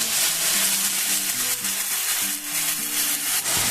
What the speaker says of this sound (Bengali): ক্যাপসিকাম আর যে পেঁয়াজ দিয়েছিলাম ভালো করে ভাজা হয়ে গেছে